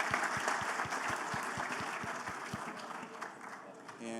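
A conference crowd on the startup stage at Infobip Shift 2023 breaks into sustained clapping over a steady thumping beat, the applause thinning as the pulse stops, with a voice near the end.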